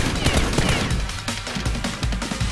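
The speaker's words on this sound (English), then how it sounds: "They turn around and shoot at Seal X." Gunfire in an action film shootout comes as rapid, close bursts of shots. The cracks pile up in overlapping volleys with short gaps between them.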